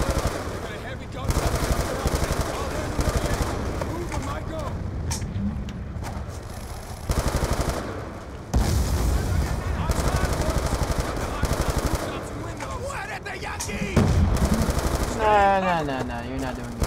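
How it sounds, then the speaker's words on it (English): Heavy machine gun fire from Call of Duty: Black Ops 2 rattles in long, loud, continuous bursts with brief pauses, mixed with battle noise and shouted voices. "We've got a heavy gun."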